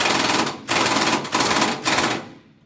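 A power tool with an extension tightens bolts on a truck slack adjuster, sounding as three loud, rapid rattling bursts of about half a second each, separated by brief pauses, before the noise fades out.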